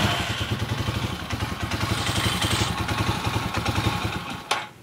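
Skygo King 150cc motorcycle engine running rough with the carburetor air screw closed, a steady low chugging idle that falters, ending with a thump as it stalls near the end.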